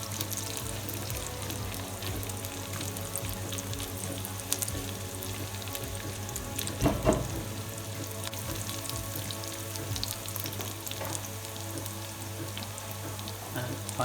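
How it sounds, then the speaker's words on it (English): Onions frying over low heat in a pan for an Indian chicken achari, a steady soft sizzle running throughout with a brief louder burst of crackle midway, no voices. "it's on sort of low heat at the moment, just helping the onion to caramelize and soften."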